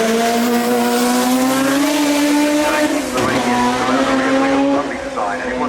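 An XF1 racing car roars past at a Goodwood Festival of Speed event, its loud engine a steady harmonic drone with a brief tyre-squeal moment partway through as it sweeps by close, then begins to fade.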